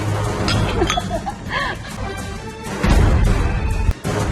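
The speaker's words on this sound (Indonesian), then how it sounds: "Kalau gitu kita cheers dulu." Glasses clink together in a toast, with a few bright chinks amid a busy, noisy room and some voices in the background.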